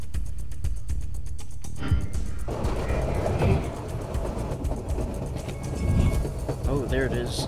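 A train in motion in the stealth video game Splinter Cell: Double Agent, a loud, continuous rumbling roll with rhythmic metallic clicks early on and a broad mechanical wash throughout.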